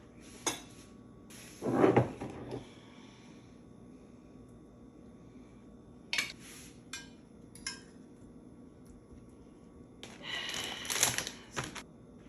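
A dish slid back into a home oven during Sunday meal prep, with a loud clatter of metal and a door bang early on, then scattered knocks and rattles, close and without talk.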